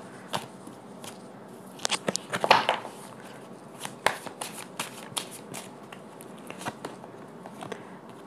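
Tarot cards shuffled and drawn by hand, a steady run of close papery riffles and flicks with brief crisp snaps, heard alone.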